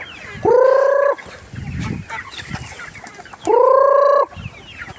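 Chickens cluck close by, with two long drawn-out calls standing out among softer clucks and scratching sounds.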